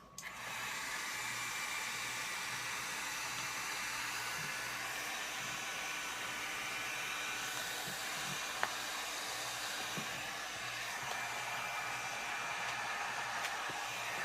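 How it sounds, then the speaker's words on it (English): A heat embossing tool runs with a steady, breathy fan-and-air hiss like a small hair dryer, continuous and fairly faint, with a few light clicks and taps over it. "now I am getting out my heat embosser, or my heating tool, turning it on"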